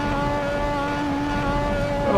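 A turbocharged car engine in the racing game Assetto Corsa, a steady loud drone with a droning whine held evenly throughout and no voices.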